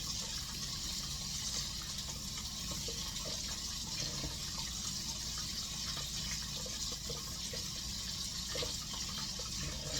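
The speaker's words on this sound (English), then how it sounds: "So I'm just going to wash my hands off while that's frying." A kitchen tap runs steadily while hands are washed next to chicken frying in a pan, a continuous close gush of water that lasts throughout, with no talking.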